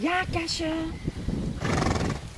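A horse whinnies in a short, loud, close series of neighs at a forest cabin, with hoof clatter after it, and a child and an adult talk around it.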